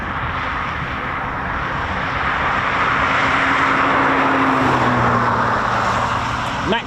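RAF Eurofighter Typhoon FGR4 jet taking off from brake release and climbing steeply: a loud, broad engine roar that swells and holds, near and powerful, with a deep rumble underneath and no talk.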